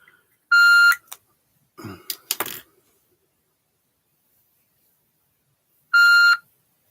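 A bright electronic beep sounds, followed by some clattering handling noises, and then an identical beep rings out again several seconds later.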